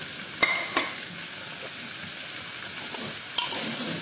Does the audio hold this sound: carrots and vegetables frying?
yes